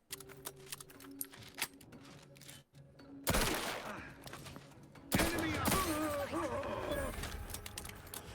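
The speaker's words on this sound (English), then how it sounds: "You would think he'd realize something was up after hearing all the gunshots." Video game gunfire: bursts of rapid shots erupt loudly after a quieter stretch, coming in two heavy volleys with crackling, echoing shots.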